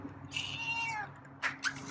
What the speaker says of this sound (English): Heard you meowing while I was in the kitchen